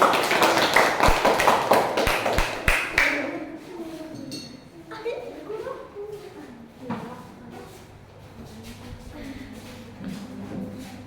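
A school class performs the rhythmic train clap (tepuk kereta api) in crisp, closely spaced bursts for about three seconds, then the clapping stops and quiet talk and shuffling follow.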